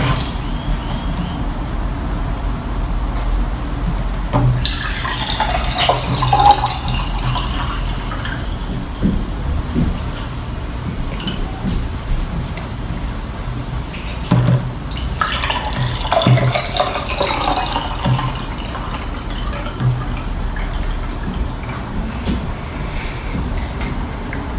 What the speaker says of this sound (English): I will pour an equal amount of tap water into three identical glasses